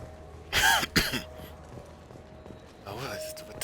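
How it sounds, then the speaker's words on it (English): A person in the game Mass Effect 2 coughs and clears their throat twice in quick succession, close and fairly loud, followed by a short murmur of speech. "Oh, what's with this cough?"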